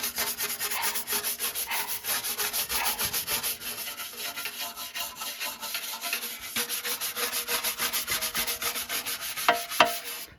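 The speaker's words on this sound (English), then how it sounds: "Let's keep buffing." Buffing a rusty metal sculpture during restoration: a steady, rhythmic rubbing and scraping with fast repeated strokes, close and loud throughout, ending with a couple of sharper knocks.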